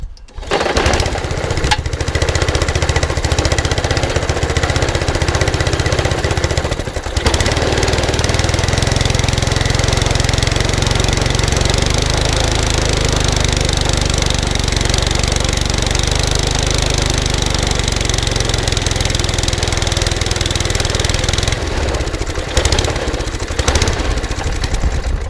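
A trash-picked lawn mower engine runs on half choke at a steady, loud, close idle with a rough mechanical chatter, sputtering briefly near the start and end.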